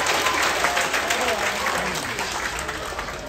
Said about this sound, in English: If you got it, give yourselves a round of applause.